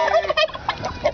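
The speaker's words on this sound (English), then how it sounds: "Turkey Buddy." Turkey gobbling in a farmyard, with a short burst of rapid, wavering gobbles and a couple of brief pauses. It sounds fairly close and stands alone, with no talk over it.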